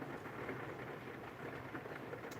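Steady rain falling outside, a dense continuous hiss heard from indoors, even and unbroken throughout with no talking.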